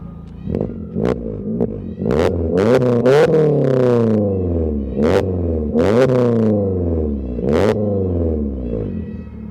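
A modified Swift with a custom muffler and oval exhaust tip revs loudly and close up in a string of sharp throttle blips, each rise falling away in a rumbling idle between.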